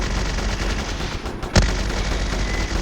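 Gunfire in a military shooter video game: dense, steady bursts of automatic fire fill the whole moment, with one sharper, heavier shot punching through near the middle.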